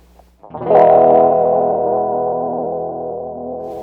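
Guitar fed through a Chase Bliss Cooper FX Generation Loss pedal set fully wet swells in after a brief quiet moment, then holds as a loud, washed-out, distorted and warbling sustained tone that barely resembles a guitar, slowly fading.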